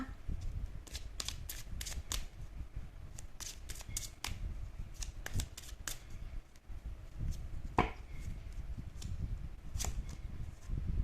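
Tarot cards are shuffled and drawn for a love reading, with close, crisp riffling and flicking in quick bursts. Sharp snaps of single cards being pulled and laid down are heard, and no speech is heard over it.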